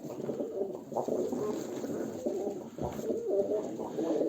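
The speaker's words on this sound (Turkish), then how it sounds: "Bakın burada çok güzel kuşlar var yani." Soft, low cooing of Turkish tumbler pigeons repeats in rolling phrases throughout, several birds overlapping at close range with no talk.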